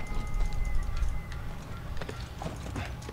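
Horse hooves clip-clopping in The Last of Us video game, a steady trotting rhythm up close with rustling game ambience, quieter toward the end.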